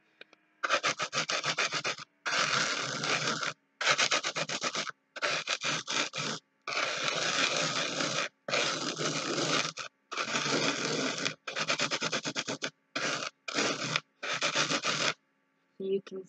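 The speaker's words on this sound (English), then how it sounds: "you're just going to simply rub it onto the salt" Chalk rubbed back and forth onto salt for an art project, a close, steady scratchy rasping in about ten long strokes separated by short pauses, with no talking.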